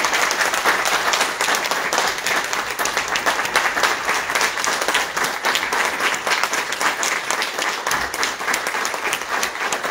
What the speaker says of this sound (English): Let's clap for all these guys